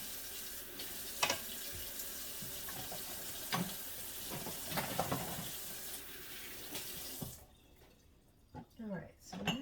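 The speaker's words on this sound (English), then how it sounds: "now we're gonna put some more water in here. It's a little hotter" Tap water runs into a kitchen sink during dishwashing, a continuous rushing wash with clinks and splashes; it cuts off near the end, leaving quieter drips and handling noises.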